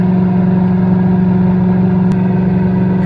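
A Ford Powerstroke diesel truck engine pulls steadily in first gear at about 30 km/h and 2,800 RPM, a loud, constant droning hum that holds even throughout.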